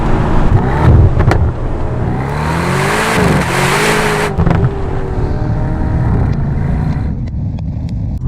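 An Aston Martin DB12 with a stainless steel aftermarket exhaust revs and accelerates nearby, its exhaust note rising and falling in pitch before settling into a steady drone.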